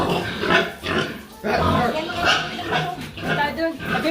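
A pig grunting and snorting up close while people talk over it, with rough, irregular bursts.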